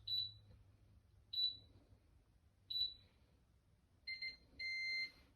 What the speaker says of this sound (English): You push this little green button once, you hear the double beep, that light will turn on.